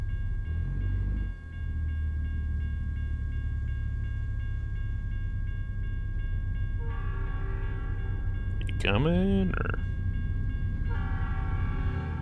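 Train horn in American Truck Simulator, a multi-tone blast sounding in repeated bursts over a steady low engine rumble, with a sharp higher horn honk in the middle and a person speaking briefly.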